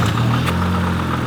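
A used car engine runs steadily at idle, a loud, close, continuous low rumble with an even drone and no speech.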